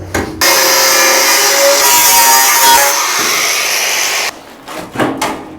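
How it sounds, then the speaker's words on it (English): A power tool grinds away a weld inside an old rusty vehicle cabin, a loud steady abrasive whine held for several seconds before cutting off, followed by a few short clanks and scrapes. "It's welded inside, so I have to grind the weld away first,"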